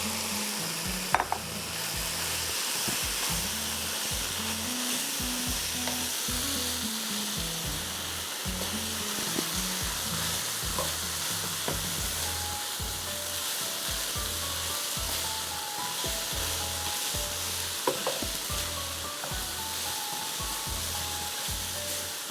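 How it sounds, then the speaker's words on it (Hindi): Spinach fries with minced keema in a pan under a constant crackling sizzle, while a spatula scrapes and stirs in a repeated rhythmic pattern over a long stretch, near and steady, with no one speaking. "अब पालक डाल के इसको 5 मिनट भूनूंगी"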